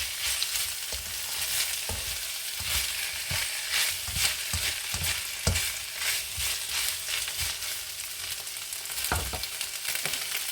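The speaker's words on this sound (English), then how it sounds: "And we fry the rice." Rice with mixed vegetables being stir-fried in a single pan, a continuous close sizzle broken by repeated scraping and stirring strokes in an uneven rhythm, with no talking.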